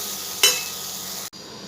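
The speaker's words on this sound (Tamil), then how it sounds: "இப்போ இதோடு சேர்த்து பாவக்காவும் நல்லா வதங்கட்டுங்க." Bitter gourd sautéing in oil in a pan for poriyal makes a steady sizzle, broken by one sharp utensil clink before the sound cuts off abruptly.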